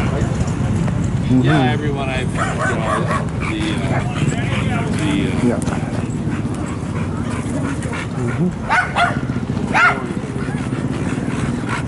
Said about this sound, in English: We know the yappy little dog.